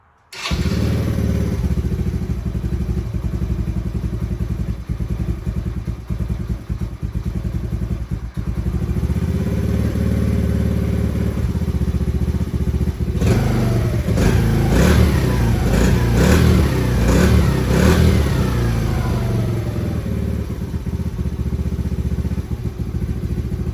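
A Yamaha Raptor 90 ATV engine with a replacement carburetor runs loudly and steadily at idle, then is blipped through a series of quick revs in the second half before settling back, with some mechanical clatter and no talk.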